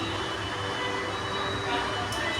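A metro train at Alambagh bus station in Lucknow, Uttar Pradesh, giving a constant broad rumble with steady tonal whine throughout, heard close and without pauses.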